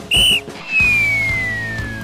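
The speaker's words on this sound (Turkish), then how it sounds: "Düdükle başlayacak, başarılar diliyoruz." A loud, sharp whistle blast starts a race at an outdoor competition course, followed by a sustained, falling tone over a steady low rumble.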